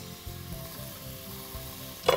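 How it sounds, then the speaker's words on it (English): Vegetables sizzle and fry steadily in a pan, with a few rhythmic scraping stirs, close and moderately loud with no talking. "So we're gonna give this a little stir and get these softened up."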